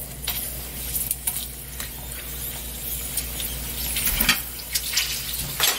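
Glutinous rice yugwa pieces deep-fry in oil over lowered heat, giving a steady close crackling sizzle with scattered pops and the occasional clatter of a utensil.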